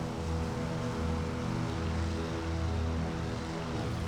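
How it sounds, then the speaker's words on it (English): Radial engines of a PBY Catalina flying boat roar steadily during a takeoff run in a flight simulator, a continuous loud drone with even tonal bands and no talk. "Rotate at 87 and then let it take off."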